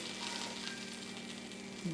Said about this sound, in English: So, now we are frying our meatballs.